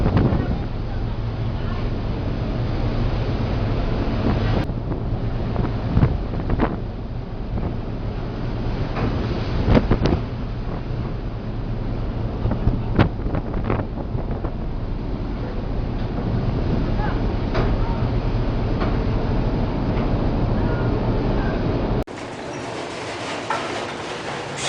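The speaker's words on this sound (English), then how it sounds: "The cargo ship Western lost power during a storm due to engine failure." Wind roars and waves crash around the Western, a cargo ship that has lost power to engine failure in a storm, with steady buffeting noise, repeated thuds and a voice speaking over it.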